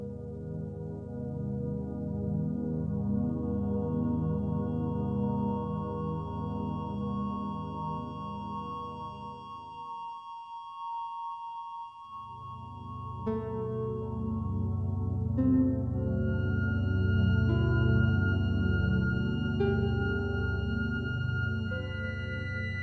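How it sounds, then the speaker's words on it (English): An instrumental piece written in the Bohlen-Pierce 3:1 scale, with sustained layered tones and a dense mid and low texture. It plays fairly quietly, drops out briefly partway through, then returns fuller and brighter. "here is a piece of music written in that scale"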